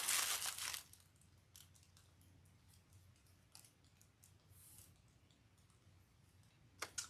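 Scissors cut ribbon for a Valentine's Day wreath, giving a crisp snip and crinkle at the start and then faint scattered clicks over quiet room tone, with no talking.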